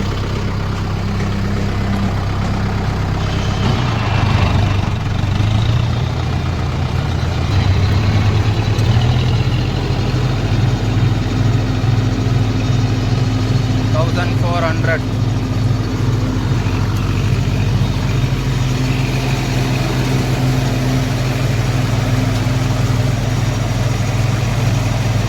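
A tractor engine idles steadily at 750 RPM on its economy setting, a low, even diesel rumble running continuously and close by, with a brief faint clatter midway.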